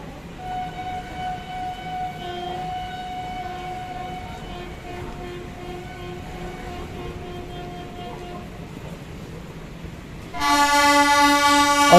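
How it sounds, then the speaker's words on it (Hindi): The Darbhanga–Saharsa passenger train pulls into platform 2 at a station, giving a long sustained horn tone that swells into a loud, harmonically rich blast near the end over a constant rumble. "और हमारी ट्रेन प्लेटफॉर्म नंबर 2 पर आ रही है"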